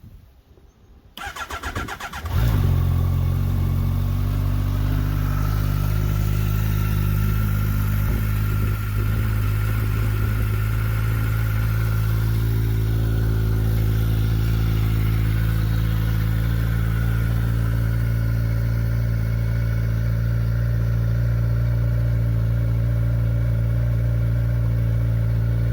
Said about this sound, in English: There you go, cold start.